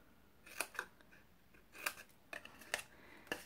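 Scissors snipping diagonally through paper while making a tea-light candle box, a series of quiet, crisp close-up cuts coming singly and in quick pairs.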